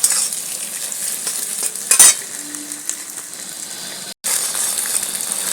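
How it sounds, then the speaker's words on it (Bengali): Eggs sizzle steadily in a hot pan for an egg tadka while a utensil stirs them, with a sharp metallic clink of spoon against pan partway through and a brief drop-out near the end. "তাহলে ডিমটা ভালো করে ভাজা হবে"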